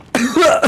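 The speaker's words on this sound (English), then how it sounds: "That was a real cough." A single short, throaty cough, loud and close, almost like a throat clearing.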